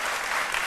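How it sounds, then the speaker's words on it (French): Brief burst of applause from a studio audience on a TV talk show set, a dense, even wash of clapping heard alone at steady volume. "Et c'est avec ces applaudissements qu'on va vous accompagner."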